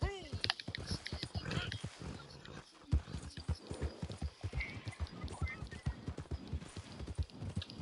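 Horse hooves clip-clop in a steady rhythm in a PS4 video game, with a person talking over them throughout.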